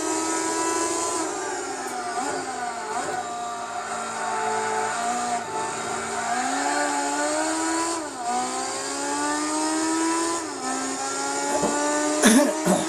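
A race car engine in Gran Turismo 4 at Twin Ring Motegi roars continuously, revving up and dropping with each gear shift in a steady cycle, loud and close with no voices.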